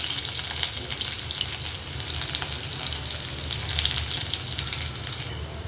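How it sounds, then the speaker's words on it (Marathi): Garlic frying in oil in a pan, an even, dense crackling sizzle heard close and loud throughout, with no voices. "आता टेस्टलेलं लसूण टाकून घेऊया."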